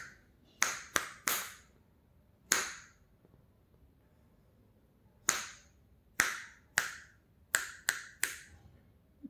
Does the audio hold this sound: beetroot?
no